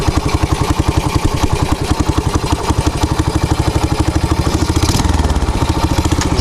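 Motorcycle engine running while the bike is ridden on a slippery road: a steady, loud, close-up throbbing chug with rapid even pulses and clattering texture throughout, no talking.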